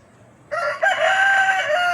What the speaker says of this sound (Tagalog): Ayan, ang ingay ng manok.